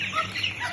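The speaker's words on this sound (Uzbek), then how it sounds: "bir-biri bilan urushayotgan jo'jalar" One-month-old chicks, young roosters, cluck and chirp in sharp, overlapping bursts as they fight each other. The sound is close and fairly quiet, with no voices.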